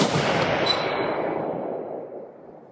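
One sharp, loud rifle shot cracks out on a range where a rifle fitted with a DNT Optics 7-35x56 scope fires at targets 200 yards away, followed by a long rolling echo that fades over nearly three seconds.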